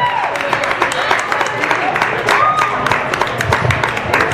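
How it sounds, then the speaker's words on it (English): Dense, steady applause from a crowd honouring the West Genesee girls' team and their coach after their season, filling the space evenly, with a voice speaking over the clapping. "Please give these young women and this coach a round of applause"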